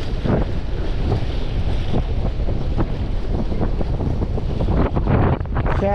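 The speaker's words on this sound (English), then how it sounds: "Wind is strong." Strong wind buffets the microphone loudly and steadily on a New Year's Day fishing trip by the water, a constant roaring rumble with gusting surges throughout and no talk.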